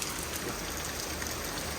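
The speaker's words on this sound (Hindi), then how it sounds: "देखो कितनी तेज़ बारिश हो गई" Heavy rain pours steadily on a Hindi-speaking household's surroundings on a school morning, a dense, loud, unbroken hiss of drops with no voices over it.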